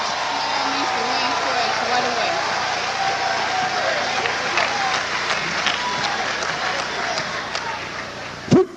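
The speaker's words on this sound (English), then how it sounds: "Let's bring them on with a round of applause." Audience at a drill competition in London applauding a drill team onto the floor, sustained clapping with crowd murmur and some voices, ending with a brief sharp knock.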